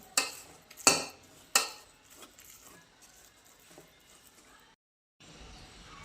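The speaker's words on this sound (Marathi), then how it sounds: "पळीच्या साह्याने छान अशी घोटून घ्यायची आपल्याला" A ladle scrapes and knocks inside a pot while spinach is stirred and mashed together with flour, giving several sharp metallic clanks at first and then softer, quieter scraping.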